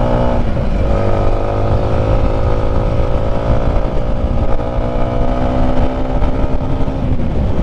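A manual motorcycle lugs uphill in 5th gear with a loud, close, low droning engine note that strains and wavers at low revs without climbing, steady throughout.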